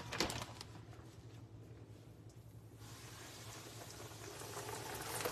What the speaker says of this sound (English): We'll be able to fry all these chops without burning them.